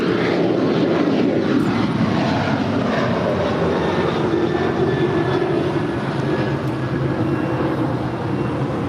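Loud, steady jet engine roar from Boeing 747 airliners at LAX airport fills the air continuously, a broad rumbling wash with no voices.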